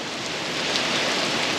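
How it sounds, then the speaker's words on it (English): Heavy rain pours down steadily outdoors near a generator and air conditioner unit, a dense, continuous hiss of drops with no break or talk. "so much for it only raining for 15 minutes"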